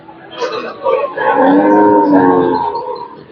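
A pregnant dairy cow, about two and a half months along and once giving over 20 kg of milk a day, moos at a rural cattle market. Two short lowing calls lead into a long, loud, sustained moo close by.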